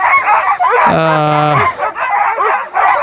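Sled dogs yelp and bark excitedly at the start of a mushing race stage near a Roman mausoleum at Lanuéjols, with one sustained howling whine rising over a continuous chorus of nearby barking and people talking.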